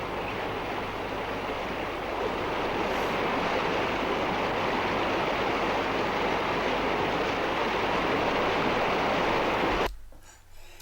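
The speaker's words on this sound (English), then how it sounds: "Its waterfall is irresistible." A loud, steady rushing roar of a waterfall in a forest on Lizard Island pours on without a break, then cuts off abruptly near the end.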